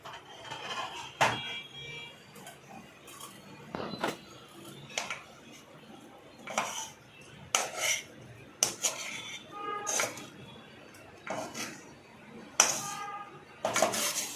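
Roasted moraiyo (barnyard millet) scraped out of a kadhai into a separate pot for moriya kheer, with a string of sharp metallic clinks and scrapes of a spoon against metal vessels, close and intermittent.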